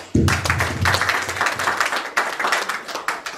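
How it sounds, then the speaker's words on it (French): Party members at a political rally of the FPI section in Manchester give a loud, sustained round of applause for a fellow member. Many hands clap close and dense, with a few voices mixed in. "J'aimerais qu'on applaudisse Patrick"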